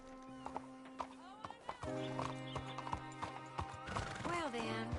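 Horse hooves clip-clop steadily in Red Dead Redemption 2, with a whinny and music around them and someone talking over the top.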